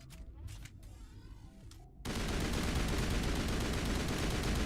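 Rifle fire from the Mass Effect video game, loud and dense: a short stretch of quieter game sound gives way, about halfway through, to a sustained burst of continuous shooting that holds at full volume to the end.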